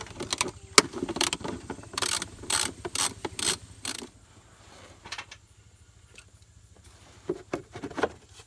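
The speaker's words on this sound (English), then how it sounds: "We're now removing the bolts from this end of the timing belt cover." Bolts come off the timing belt cover of a 2005 Subaru Forester with a ratchet: close, crisp clicking bursts in short runs, then a quieter stretch before a few more clicks, with no talking.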